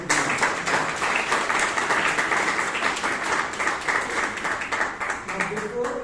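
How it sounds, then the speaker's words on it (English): An audience at a Toastmasters club meeting in Bangalore claps steadily and densely, a sustained round of applause that stays fairly even before tapering near the end. "A big round of applause to Toastmasters Club."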